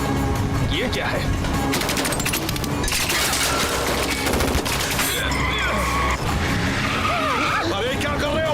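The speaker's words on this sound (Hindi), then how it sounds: "गोली चलाओ।" Gunfire in a Hindi-dubbed mummy adventure film chase scene, bursts of shots mixed with roaring car engines, skidding tyres and shouting voices, loud and continuous throughout.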